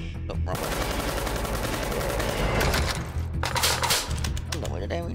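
Rapid, loud gunfire in Metro Conflict, dense bursts of shots and explosive thumps from a grenade launcher and other weapons rattling close, with a player's voice talking briefly over the din.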